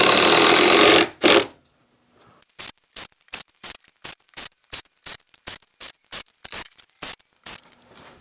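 A power drill drives screws into pressure-treated lumber gate boards, giving a run of about fifteen short, evenly spaced whirring bursts close by, after a louder rush of noise at the start.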